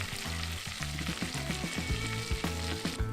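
A large knob of butter melts in a hot pot while cooking malai kofta, giving a steady close sizzle and crackle that runs throughout, with deeper low tones beneath it.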